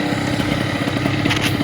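A 78cc two-stroke light aircraft engine fitted with a silencer runs steadily nearby, a fast, even buzzing pulse with a muffled rasp at constant loudness.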